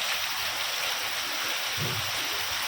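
A swollen river in flood rushes steadily past, a dense, continuous roar of flowing water that stays close and even from start to finish.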